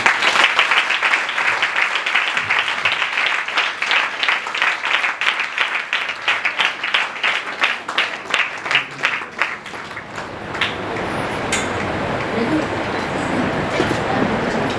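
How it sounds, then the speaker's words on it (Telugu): A church congregation claps steadily for around ten seconds at a church dedication service, a dense even applause that fades into a noisy room murmur. "చప్పట్లు పడుతున్నామా?"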